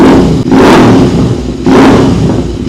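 A Royal Enfield Interceptor 650 fitted with an RRP full-system exhaust with Valvetronic revs hard twice in quick succession, each burst loud and close and dropping back between blips.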